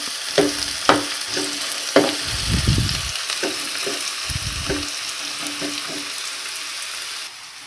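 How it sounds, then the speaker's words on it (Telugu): Onions fry in hot oil over a low flame for a masala mushroom curry, a steady soft sizzle broken by sharp spatula clicks and two bursts of scraping stirring. "ఇప్పుడు స్టవ్ని లో ఫ్లేమ్లో పెట్టుకుని ఉల్లిపాయలు బాగా మగ్గనివ్వాలి."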